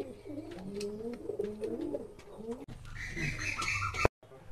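A pigeon of the Fulshira type, kept in a home loft, coos close by in repeated low, throaty rolls. Faint chirps and handling noises sound around it, and the clip ends abruptly.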